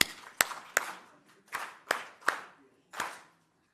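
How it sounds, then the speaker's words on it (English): Six separate sharp hand claps from an audience at a municipal managers' exchange event in South Africa, spaced irregularly over a few seconds, each with a short decay, fairly quiet in a room. "That's an international clap"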